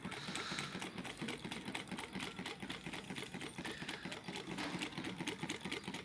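A small homemade Stirling engine, a first build, runs steadily up close with a fast, even mechanical clatter that keeps a regular rhythm throughout.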